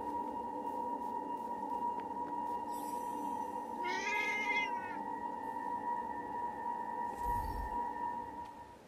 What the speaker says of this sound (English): One of those cool cats is nearby.